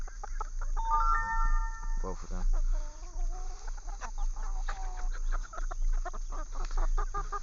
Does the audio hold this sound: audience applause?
no